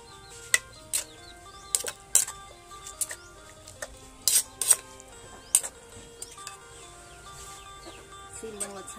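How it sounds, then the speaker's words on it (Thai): A spoon stirring a Thai enoki mushroom dip in a pot, giving scattered light clinks and scrapes against the metal, fairly quiet with gaps between strokes and a voice talking over it. "คนเข้ากันค่ะพี่น้อง"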